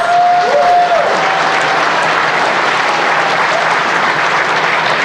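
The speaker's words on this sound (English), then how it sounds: "Give yourselves a round of applause" Attendees at the ribbon cutting for the Sankofa Village Wellness Center applaud themselves, a loud, continuous burst of many hands clapping that stays even for several seconds, with a brief tonal whistle-like note near the start.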